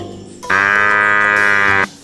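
A single cow gives one loud, drawn-out moo, close and clear against quiet surroundings.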